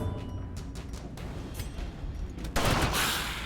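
A loud burst of overlapping gunshots crackles from the Darkest Dungeon video game, a rapid volley landing near and dense, with game ambience beneath.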